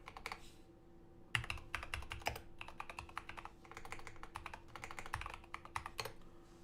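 Rapid typing on a computer keyboard in bursts of clicky keystrokes with short pauses, set against a steady low background hum and no talking.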